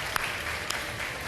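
Studio audience applause on a TV quiz show during an iftar broadcast, a steady moderate clapping wash with a couple of sharper individual claps standing out.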